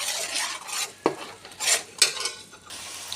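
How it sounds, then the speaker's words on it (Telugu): Tomato paste and ginger garlic paste gravy frying in a pan, with a few close scraping stirs and soft clinks of a utensil over a quiet sizzle, alone without voices. "ఈ టమాటో పేస్ట్ దీంట్లోకి వేసుకోవాలి వేసుకొని ఇది పచ్చివాసన పోయే వరకు గ్రేవీ బాగా వేయించుకోవాలి"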